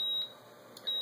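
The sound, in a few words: 3825 Hz blue box seizure tone from Arduino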